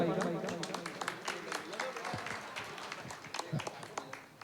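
Audience at a live music show clapping for the sound operator, a dense round of applause with a voice speaking over it, gradually thinning toward the end.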